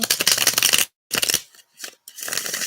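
Tarot cards shuffled in quick, crisp riffles, a long fluttering run, a brief pause, then several shorter bursts, close and fairly loud.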